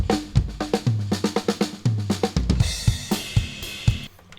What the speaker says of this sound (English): I think Mark has a cool drum fill here.